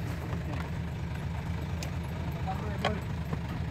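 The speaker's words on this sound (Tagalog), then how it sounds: "Ang gandang makina, makinis." A turbo car engine idles smoothly at a vehicle trading lot, a low, even rumble held steady throughout, with faint clicks and rattles on top.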